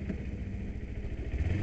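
A 2008 Kawasaki Ninja 250R motorcycle engine runs steadily while riding during break-in, a continuous close, even mid-pitched drone with low rumble and no voices.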